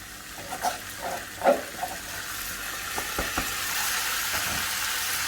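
Rice tipped into a pan of fried vermicelli with cinnamon, onion and garlic, giving a few soft clattering knocks, then a steady low sizzle that holds faintly to the end.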